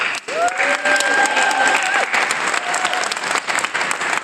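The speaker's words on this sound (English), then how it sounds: "So another round of applause." Sustained audience applause at an award ceremony for community outreach work, dense clapping from a full room lasting the whole stretch, with a brief whistle-like tone and some voices mixed in.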